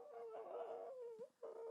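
A dog howls and whimpers close by, a sustained wavering cry that breaks off briefly and then resumes, heard alone without talk.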